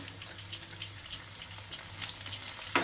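Ginger pieces fry in a pan for dal khichdi with a faint, even sizzle and light spattering ticks, ending in one sharper clink. No one speaks.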